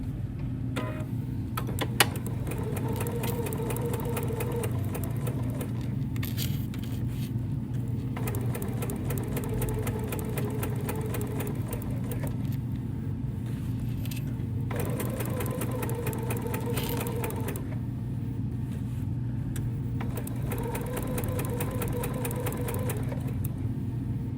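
A sewing machine stitches through a quilted ornament trivet in a steady rapid whir, pausing briefly several times before resuming at the same even pace, close and alone with no voices.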